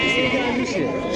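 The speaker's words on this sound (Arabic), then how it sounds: "خروف امازيغ تبارك الله." Amazigh sheep bleating at a Moroccan weekly livestock market, a single wavering bleat close by amid the murmur of people talking.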